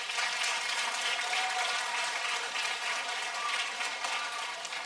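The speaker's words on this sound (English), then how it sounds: "Would you give them a round of applause?" An audience applauds teachers at an elementary school end-of-year promotion ceremony. Steady, dense clapping from a room full of people continues without a break and without voices.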